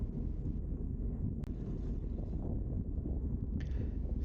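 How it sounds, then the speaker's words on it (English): Gusty wind buffets the mic on a road bike ride through tree-lined roads, a constant loud low roar with brief rustling bursts and no talking. "See how it's a bit windy? It's blowing all the trees around."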